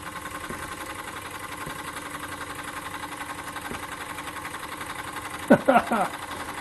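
A RETROL SE-02 model steam engine powering a generator and street lamp runs with a fast, steady mechanical chuff and whir, close by, with a brief clatter near the end.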